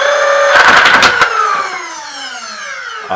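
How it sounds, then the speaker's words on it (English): A Nerf Rapidstrike blaster with an Artemis rewire spins up its flywheel motors and fires a quick burst of clicks, then its whining motor winds down steadily, close and loud. "So, prime, fire Artemis, and then not primed, rev and fire."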